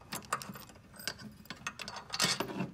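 A screwdriver loosens a bolt on an umbrella smooth runner while a wrench holds the nut. It makes close, irregular ratcheting clicks and metallic scraping.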